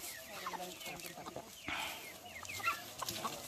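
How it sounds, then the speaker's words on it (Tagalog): Chickens cluck and squawk in a busy chorus at a moderate distance, with a faint voice mixed in. "Uy, grabe mga manok guys oh."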